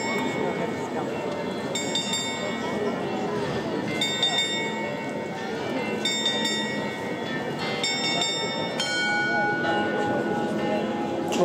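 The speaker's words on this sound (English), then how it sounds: "The skeleton will strike the time, pulling the bell." Bell of the Czech astronomical clock, struck by a skeleton figure, chimes in repeated metallic strokes about every two seconds over a dense crowd murmur, with people talking nearby.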